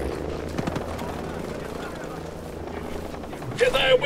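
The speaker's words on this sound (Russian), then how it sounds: "Вертолет надо нахер сбить" A helicopter in Ghost Recon Breakpoint gives a steady rotor drone through the gameplay, joined near the end by a louder burst of game noise. A voice talks over it at times.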